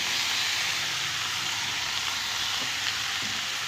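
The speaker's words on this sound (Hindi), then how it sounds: "पका लेंगे और कीमे को हमें गलाना है इसी प्याज के साथ" Beef mince, about 200 grams, frying with softened onions in a pan, giving a steady close sizzle and hiss that runs evenly throughout with no talking.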